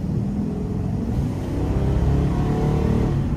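A 2004 Ford F-350 XL pickup with a 6.8-litre V10 accelerates from inside the cab, its deep engine rumble swelling steadily louder over a few seconds.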